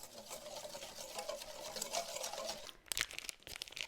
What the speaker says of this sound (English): Now we're just going to whisk it.